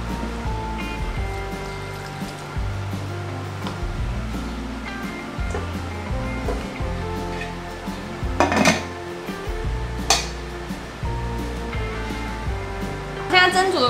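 A bowl goes into an electric rice cooker whose outer pot holds a cup of water for steaming: a few sharp clinks and knocks ring out under a speaking voice and background music.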